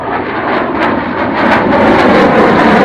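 A Saab Viggen fighter jet thunders overhead during an air show display, a loud, continuous roar that grows steadily stronger over a few seconds.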